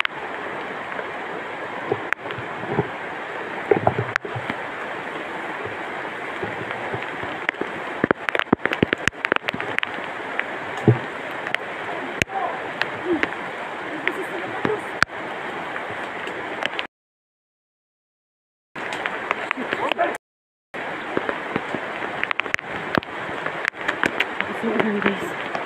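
Steady outdoor rain with a broad hiss and scattered sharper drop impacts, continuous throughout apart from two short gaps, with speech-like sounds under it.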